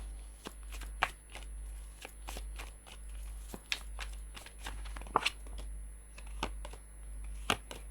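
Tarot cards are shuffled close up, giving soft irregular riffles and sharp slaps over a low steady hum, with no one speaking.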